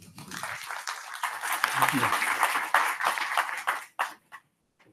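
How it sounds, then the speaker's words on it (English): Conference audience at a firmware summit claps for the speakers taking the stage, a swelling burst of applause lasting a few seconds before cutting off, with brief voices and a low thump mixed in. "let's fire it up and have a big round of applause for Morgan and Jonathan"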